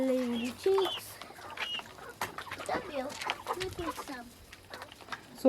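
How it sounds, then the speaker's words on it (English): Several chickens cluck and call inside a chicken house on a small poultry farm, with scattered overlapping bird calls and a human voice in the background. "So these are some of the chickens we have right now."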